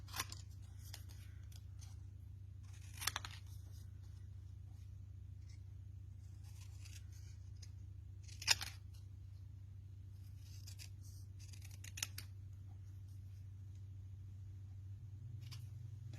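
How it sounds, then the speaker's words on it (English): Scissors cutting out paper words, a few sparse, crisp snips spread across a long quiet stretch with a steady low background hum and no voices. "We're just going to cut these with the hopes that we cut them fairly straight."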